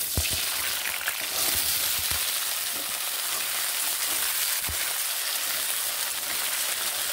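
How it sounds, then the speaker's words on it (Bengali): Potatoes sizzle steadily in a pan with poppy seed paste, a continuous close frying hiss with occasional louder crackles and spatters throughout, no voices. "যে আলুগুলো আমি রেডি করে রেখেছি, আলুগুলোকে আমি এখানে ছেড়ে দিচ্ছি"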